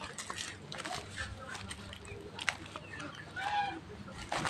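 Chickens at a rural Vietnamese home garden give scattered soft clucks and calls, fairly faint and somewhat distant, mixed with people talking.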